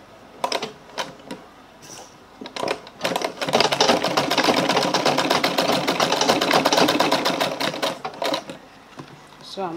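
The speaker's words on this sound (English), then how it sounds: "So let's get to the sewing machine now." A sewing machine stitches a handle for an Ankara fabric bag, starting with short bursts of rapid needle clatter and then running in a longer continuous stretch before tapering off.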